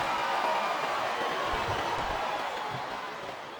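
Steady, roaring arena crowd noise from the wrestling video game WWE SmackDown vs. Raw 2007, a dense continuous murmur that holds level throughout and eases slightly toward the end.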